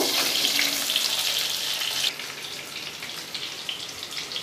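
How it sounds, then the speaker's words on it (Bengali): Big diced potato pieces fry in oil, starting with a loud hissing sizzle that drops to a quieter, steady crackle partway through, close by with no talking. "এবার এটা দিয়ে দিচ্ছি তেলের ওপর আলুটা হালকা করে ভেজে নেব"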